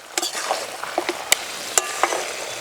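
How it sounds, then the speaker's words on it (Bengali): Katla fish head curry (muri ghonto) being stirred in a pan, with a few sharp spoon scrapes and clinks over a steady soft sizzle, close and fairly quiet, no voices. "1 মিনিট মতো নাড়াচাড়া করেই নামিয়ে নেব"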